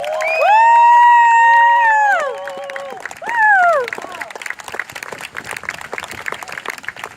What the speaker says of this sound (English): can you give a big round of applause, please, for Jeremy Dutcher?